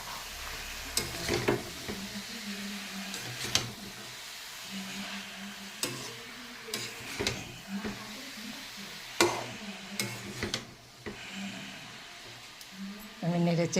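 Bottle gourd, ginger and potato fry in a pan, sizzling softly while a utensil stirs and scrapes in repeated bursts, with a voice speaking over the cooking.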